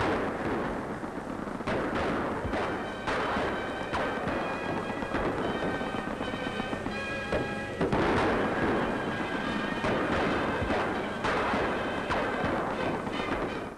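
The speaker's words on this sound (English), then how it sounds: "this film shows them replying to Boche machine gunners firing from the big hospital there." Heavy gunfire in archival wartime footage, with troops answering German machine gunners who fire from a large hospital building in France. Loud, dense bursts and booming shots go on continuously over crackling film noise.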